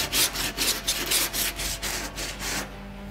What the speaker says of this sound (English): Once the filler's hardened, we'll start with 40 grit on a board file.